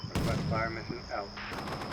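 Artillery fire mission landing in the Combat Mission Shock Force 2 war simulation game, a run of loud, close gunfire-like blasts and rumbling impacts over about two seconds, with a faint voice in the mix.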